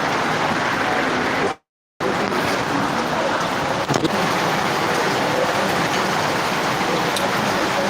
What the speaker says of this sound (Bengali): চারিপাশে বৃষ্টি